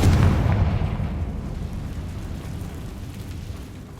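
A Confringo spell explodes in the video game Hogwarts Legacy, a loud low boom right at the start that rumbles and slowly fades over several seconds, with no talk.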